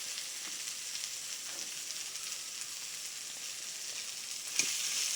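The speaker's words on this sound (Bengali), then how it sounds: "জিরে বাটাটা দিয়ে আমি আবার একটু খুব ভালো করে নেড়ে চেড়ে নেব" Spinach fries in a pan with cumin paste, giving a faint, even sizzle throughout and one brief scrape of stirring near the end.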